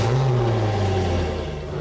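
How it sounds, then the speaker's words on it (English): A boat's outboard engine runs on a motor flush with the water on during storage prep, a steady, loud, close mid-pitched motor drone that dips slightly near the end. "turn the water on, then start the engine."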